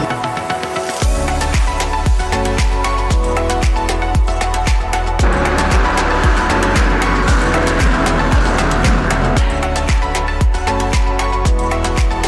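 A race car laps the Lausitzring circuit in a close race, its engine loud and near with rapid repeated revving pulses and gear changes, rising and falling throughout.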